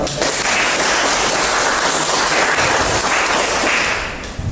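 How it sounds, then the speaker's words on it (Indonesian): Classroom students clapping together in a dense, loud, continuous burst that thins out just before the end, with no talking. "saya minta kita semua untuk tepuk tangan atas karya kita"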